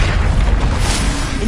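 Confringo spell blast in Hogwarts Legacy on PS5, a loud, dense booming burst that rumbles steadily through the moment without letting up.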